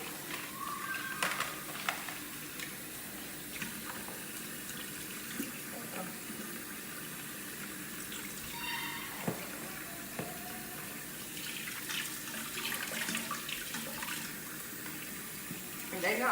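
Tap water runs steadily over pre-cooked, deshelled seafood being rinsed in a kitchen sink, a soft, continuous splashing with faint shifts as the seafood is moved under the stream.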